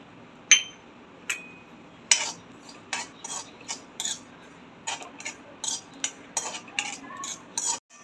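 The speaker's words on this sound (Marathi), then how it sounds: "कढई गरम झालेली आहे आधी खसखस भाजून घेऊया" A spatula scrapes and clinks against a hot pan in irregular strokes, dry-roasting poppy seeds over a quiet background.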